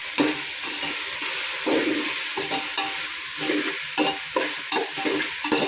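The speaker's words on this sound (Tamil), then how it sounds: "புதினா போட்டு வதக்கிக்கலாம். பச்சை வாசனை போற அளவு வதக்கிக்கலாம்." Mint leaves sautéing in a large biryani pot, with continuous loud sizzling and repeated scraping stirs in an uneven rhythm, close up and without speech.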